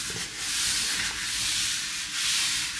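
A hand sweeps over a smooth gelli printing plate, making a soft, continuous hissing rub that swells and fades in slow passes, close by, with no talking.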